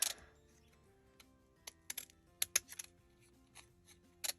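Quiet, sparse snips of postal scissors cutting paper, a scattered series of short crisp clicks close by with pauses between them.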